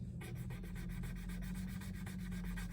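Jewelry scraped against a testing surface to check for silver gives a steady, close rubbing rasp that runs unbroken for a few seconds with no voices.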